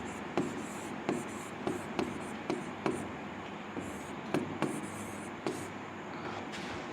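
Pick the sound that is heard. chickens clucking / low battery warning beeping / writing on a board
writing on a board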